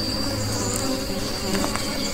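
Bees buzzing around honeybee hives full of honey: a steady, dense insect drone that fills the whole clip at even loudness, close and continuous, with a few brief louder passes and no talking.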